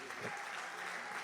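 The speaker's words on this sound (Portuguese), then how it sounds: "Uma salva de palmas para Jesus." A church congregation claps together in a dense, even burst of applause that fills the room for about a second.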